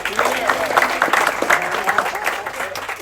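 Steady, fairly loud clapping from an audience greeting crew members introduced aboard the ship Amadeus, continuous throughout with faint voices mixed into the applause.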